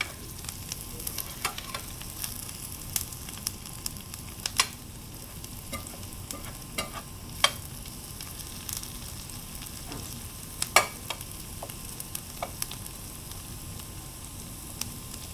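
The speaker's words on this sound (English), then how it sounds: "So single layer of the onions and garlic, so it caramelizes nicely." Onions and garlic sautéing in browning butter, spread in a single layer, make a soft continuous sizzle broken by sharp pops and utensil clicks, close by and without speech.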